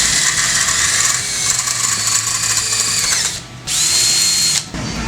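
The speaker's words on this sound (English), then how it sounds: "drill a hole, and then your controls won't flop around" A power drill bores a hole through a metal motorcycle handlebar on a Harley-Davidson XG 500 tracker project, a loud, close, high whine running steadily, briefly dipping as the bit slows, then resuming before cutting off.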